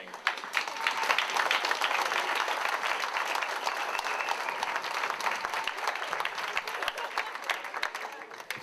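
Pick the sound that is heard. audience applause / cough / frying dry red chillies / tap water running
audience applause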